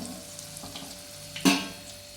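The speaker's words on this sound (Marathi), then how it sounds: "आज खायला मिरची पण छान तळले काढून घेते मी आता साईडला" Green chillies fry in hot oil beside a batch of bhaji, giving a soft steady sizzle that jumps into a sudden louder crackling burst near the end before settling back down.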